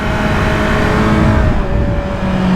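A motorcycle engine pulling hard under throttle along a twisty road, a loud, sustained droning whine with a steady pitch and rushing wind noise throughout, recorded from the rider's position, with no talk.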